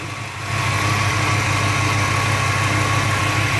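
A 5.0 liter high output V8 engine in a Ford Mustang idling steadily, a deep even rumble with a constant drone that rises slightly at the start and then holds.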